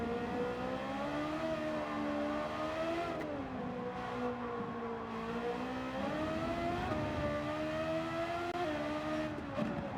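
A tuned Ferrari 430 Scuderia's engine drones loud and steady through a Nordschleife lap, its rising and falling harmonic pitch tracing shifts and throttle changes, with no voices over it.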